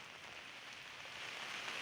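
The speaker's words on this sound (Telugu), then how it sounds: "జగిత్యాల జిల్లాలో కురుస్తున్న భారీ వర్షాలు జనజీవనాన్ని అస్తవ్యస్తం చేశాయి" Heavy rain in Jagtial district, Telangana, falls as a faint, steady hiss with no other sounds.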